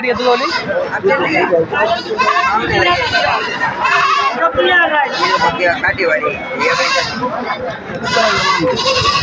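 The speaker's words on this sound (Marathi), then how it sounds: "हा इथं काठेवाडी शेळ्या आहेत विक्रीसाठी" Kathiawari goats bleating at a busy livestock market in Shirur, Pune district, their calls scattered through loud crowd chatter and nearby voices talking throughout.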